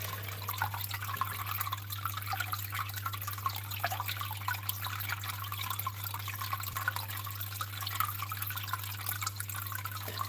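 Water streams steadily over a Miller table during gold cleaning, giving a continuous close trickle and fine dripping, with a constant low electrical hum beneath.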